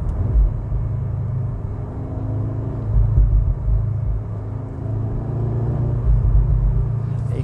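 A 2021 Audi S3 at speed, its exhaust giving a low, steady rumble with slight swells as throttle changes, heard from inside the cabin without talking.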